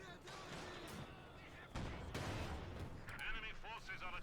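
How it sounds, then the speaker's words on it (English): Machine gun fire in Company of Heroes 2, a German MG position behind Panzer IV wreckage cutting down engineers, with quiet, rapid, distant bursts beneath a caster talking over the battle. "Machine gun there catching the engineers, pushing them back."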